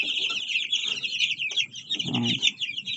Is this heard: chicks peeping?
yes